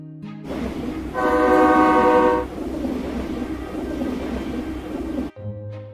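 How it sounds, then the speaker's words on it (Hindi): Train at Malda railway station in India sounds a loud, sustained horn for about a second and a half over a steady rumble of rolling railcars, which keeps on close by until it cuts off near the end. "ट्रेन चली गई"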